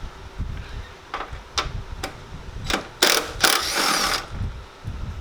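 Ratchet wrench backing out half-inch screws on a Dodge Ram fender, heard as a few separate short clicking bursts and then a longer run of rapid ratcheting near the mic, with no talking.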